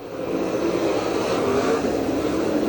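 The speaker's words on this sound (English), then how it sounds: "Down the back straightaway. He's got about a 5-car length lead as Bloomquist will try to close it down" Super late model race cars at speed on the dirt oval at Boyd's Speedway, a steady, loud engine roar holding through the whole stretch with no break, the pack heard together rather than as single passes.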